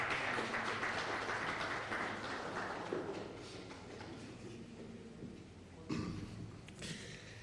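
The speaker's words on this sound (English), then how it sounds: "let's welcome him with a round of applause." An audience applauds to welcome a presenter at a business knowledge series event, a dense, steady clapping that fades gradually and then brightens briefly with a few stronger claps near the end.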